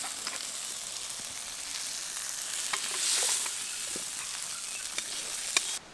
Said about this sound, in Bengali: এবার সবগুলোকে খুব ভালোভাবে আমি কড়াইতে নেড়ে নেব